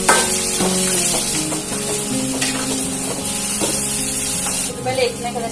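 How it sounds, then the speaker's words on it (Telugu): Onions with garlic, ginger and green chillies frying in hot oil for a Telugu-style spinach-dal curry, a steady loud sizzle with scraping stirs and utensil knocks throughout, no talk over it. "ఉల్లిపాయలు వేస్తున్నాయి కదండి"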